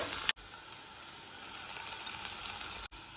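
Garlic paste hits hot coconut oil in a pan, a steady hissing sizzle that holds evenly, broken by two brief cuts.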